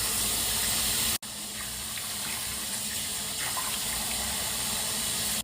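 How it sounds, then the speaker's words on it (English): Tap water runs steadily from a faucet into a sink during face washing and rinsing, a constant close hiss with a brief cut near the start. "Wash, wash, wash. Rinse. Cold water."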